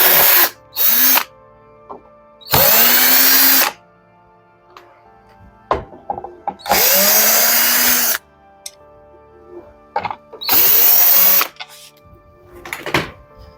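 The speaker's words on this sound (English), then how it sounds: "I will remove these screws." A power drill whines in three sustained bursts while backing screws out of a mini dishwasher, each run rising in pitch, separated by small clicks and handling knocks; close and loud, no talking.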